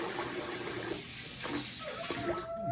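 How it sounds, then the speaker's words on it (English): Water running and splashing as a face is rinsed at a sink after a shave, continuous and close with brief bursts of splashing, no talking. "I'm gonna rinse the face and we'll get to the post."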